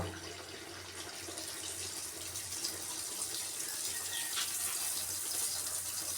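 Athirasam dough sizzles in hot oil, a steady, dense hiss and crackle frying continuously at close range with no talking.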